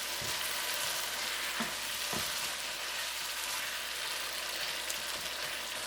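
Chinese pork riblets with daikon sizzling in a pan and being stirred, a steady soft frying hiss with a few faint scraping knocks from the utensil.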